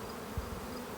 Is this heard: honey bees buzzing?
yes